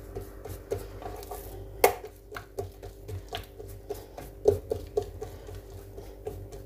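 Hands spread small dough balls coated in melted butter and oil across a work surface, making soft, irregular close-up slaps, pats and taps with brief sharper knocks.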